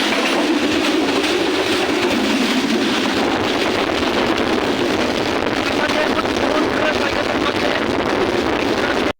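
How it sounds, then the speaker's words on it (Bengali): Kurigram Express, a Bangladesh Railway intercity train, running in a loud continuous rumble with heavy wind buffeting the microphone and a low droning hum throughout. "কুড়িগ্রাম এক্সপ্রেস বাংলাদেশ রেলওয়ের কৃতিত্ব পরিচালিত একটি আন্তনগর ট্রেন।"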